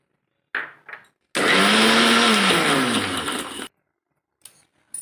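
A mixer grinder blends sugar and two cardamom pods into a coarse, semolina-like powder: a loud, steady whirring grind of about two seconds. A couple of short clicks come before it, and then silence.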